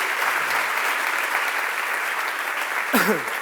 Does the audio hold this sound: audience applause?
yes